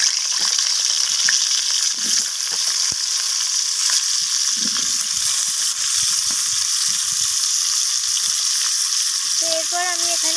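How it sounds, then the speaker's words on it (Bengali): Cut potatoes fry in mustard oil in a wok, giving a loud, steady sizzle that hisses continuously and close up, with a few faint scrapes and no voices. "এরপর এখানে আমি কেটে রাখা আলুগুলোকে দিয়ে আলুগুলোকে কপির মতো লাল লাল করে ভেজে নেব"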